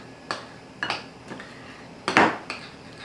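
A spoon clinks and taps against a bowl while allspice and cinnamon are mixed together for a pumpkin cheese roll, producing about half a dozen light, close strikes with brief pauses between them and no voices.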